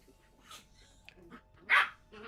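A dog gives a few short, sharp barks and yips with quiet gaps between them, and one louder bark comes near the end, all at a modest distance.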